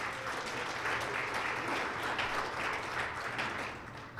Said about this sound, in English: Please give the Carlisle a nice round of applause for hosting us today